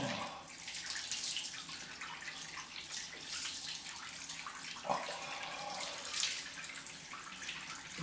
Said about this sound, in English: Nice cold rinse.